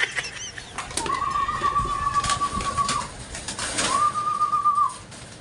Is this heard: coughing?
no